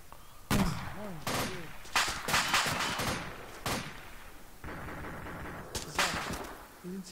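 Gunfire rattles through an Arma 2: Operation Arrowhead battle, loud sharp reports in irregular bursts and single cracks, some close and some echoing, with voices talking in between.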